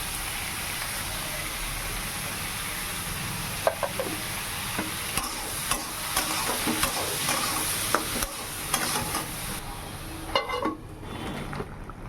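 Ridge gourd fries in a wok with mustard seeds, green chilli and salt, a steady close sizzle broken by scraping stirs and light popping ticks from the spices.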